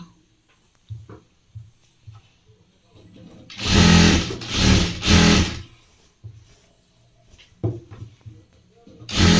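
Sewing machine stitching a blouse, running in several bursts: short runs near the start and end and a long loud stretch in the middle, with quiet pauses and speech in between.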